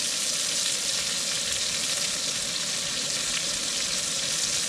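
Food sizzles steadily on a camping barbecue at a wild forest camp in Scotland, a dense, even hiss of frying that holds loud and close without a break and with no voices.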